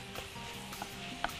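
Stirring ruqaq filling with spices and nutmeg in a pan, a quiet sizzle with soft scraping and occasional light taps of the spoon, faint and close.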